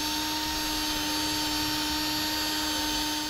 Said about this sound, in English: in the front, we are drilling through 2 layers of metal, so it takes a little while